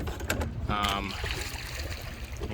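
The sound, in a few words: paddling a boat on a lake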